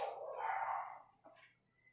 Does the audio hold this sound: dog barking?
yes